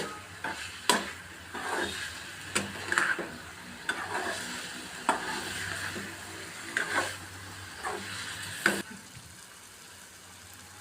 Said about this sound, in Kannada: ಸ್ವಲ್ಪ ಒಲೆಗೆ ಫ್ರೈ ಮಾಡೋಣ